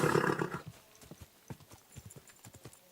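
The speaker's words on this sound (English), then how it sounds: "Easy, good horse." Horse hooves clip-clop in a steady, close rhythm in the medieval game Kingdom Come: Deliverance II, a brief whinny-like burst at the start, then evenly spaced hoof strikes continuing alone.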